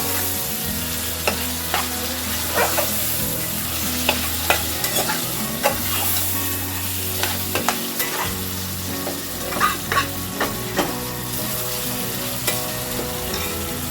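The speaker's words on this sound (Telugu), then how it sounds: "ఇక్కడ మనం కాస్త చికెన్ని ఫ్రై మాదిరిగా చేద్దాము." Chicken fries with onions for murgh chole masala, a steady loud sizzle broken by repeated scrapes and knocks as a spoon stirs the pan, with no talking.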